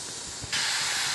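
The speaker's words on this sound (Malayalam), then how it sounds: "അപ്പോൾ ഇതൊന്ന് പെട്ടെന്ന് ആവി വരട്ടെ." Steam from a puttu steamer fitted with a coconut shell starts hissing partway through, rising suddenly from a quieter rush to a loud, steady, close hiss that holds to the end.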